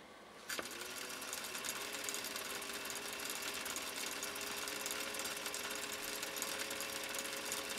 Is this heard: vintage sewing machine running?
yes